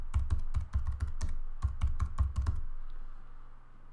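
Rapid, steady typing on a computer keyboard, a close run of crisp key clicks over a low background hum that stops after a couple of seconds, leaving only the hum.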